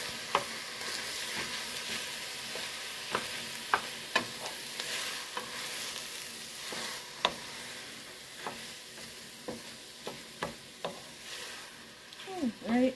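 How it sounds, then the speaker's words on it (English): Venison being stirred and broken up as it browns in a pot for chili, with steady soft frying hiss beneath sharp, irregular scrapes and clicks of the utensil against the pot, close and moderately loud with no talk. "I'm going to stir it around. I'm going to break it up a little bit so it cooks evenly."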